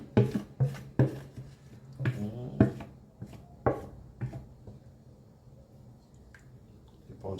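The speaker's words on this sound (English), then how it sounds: "So just keep on stirring and let it cook in the heat." Ragi porridge stirred in a pot as it cooks over heat: a series of close, sharp scraping knocks and thick squelching strokes, irregular at first and then thinning to softer scrapes.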